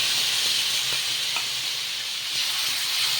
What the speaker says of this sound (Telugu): ఇప్పుడు హైలో పెట్టుకొని దోశ వేసేసుకోవాలి